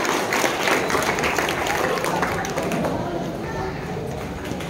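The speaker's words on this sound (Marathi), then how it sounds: "टाळ्या वाजवा, टाळ्या वाजवा" An audience claps through an opening ceremony at state youth games, a dense and steady patter of many hands that holds at an even level for the whole stretch and thins only slightly toward the end.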